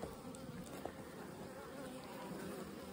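Honeybees buzzing around an opened hive split, a faint, continuous swarm hum with a few individual bees droning close by the microphone.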